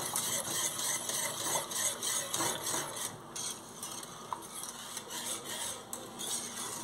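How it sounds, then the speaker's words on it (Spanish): Oat and chocolate atole being stirred in a pot as it heats toward a boil, a steady scraping and swishing of a spoon against the pot with faint bubbling and occasional metallic knocks, close and continuous. "No se les olvide que tienen que estar revolviendo"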